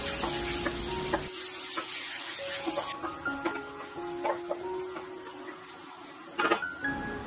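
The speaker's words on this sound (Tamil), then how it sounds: "பொரிஞ்ச உடனே பெரிய வெங்காயம் 3 பொடியா நறுக்கி சேர்த்து" Chopped onions hitting hot oil with cumin in a kadai, a loud hiss at first that settles into a steady soft sizzle with occasional spoon clinks and stirring scrapes against the pan.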